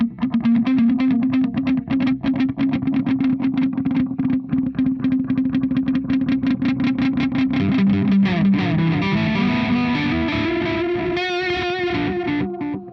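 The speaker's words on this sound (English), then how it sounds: "it's in the tails where you hear the distortion inside" Electric guitar notes ring through a delay pedal placed after distortion, each repeat gritty and distorted, the echoing tails sustaining and smearing together as the phrase continues.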